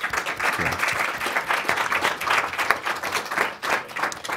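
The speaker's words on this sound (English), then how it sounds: "If I could have a round of applause for the panel." A conference audience applauds a panel on countering violent extremism in Pakistan at the close of the session, with steady, moderately loud clapping that swells and dips briefly before carrying on.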